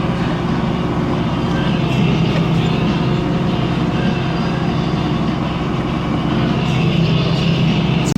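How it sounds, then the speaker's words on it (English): A pump engine idles steadily while it fills a fertilizer trailer at a cornfield being side-dressed, giving a continuous, loud, even rumble with no breaks. "So I just let the pump idle"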